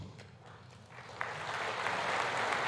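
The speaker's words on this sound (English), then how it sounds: "Muted applause there." Muted applause from the audience at the 2020 State of the Union address swells gradually out of near-quiet into a steady, moderate patter of many hands clapping.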